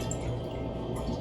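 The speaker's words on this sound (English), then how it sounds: "in our pan, we're going to add a little bit of water" A little water is poured into a cooking pan, giving a short, close, steady trickle and splash that lasts just over a second with no voices.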